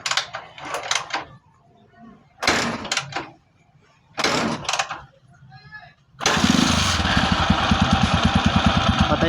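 Several sharp kick-start attempts thump and sputter before a hard-starting TMX 155 motorcycle engine catches and settles into a steady, rumbling idle close by.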